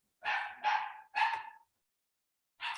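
A small dog barks three times in quick succession, sharp and clear against silence, then lets out one more bark after a short pause.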